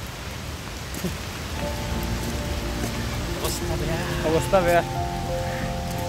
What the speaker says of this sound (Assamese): বৰষুণৰ বতৰ তিতি আহিছোঁ।